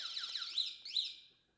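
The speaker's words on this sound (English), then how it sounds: "it doesn't take long for an alarm to start going off" Built-in anti-theft alarm on an Electric Bike Company Model C e-bike, sounding alone as a piercing electronic wail that rises and falls in a couple of quick sweeps before fading out.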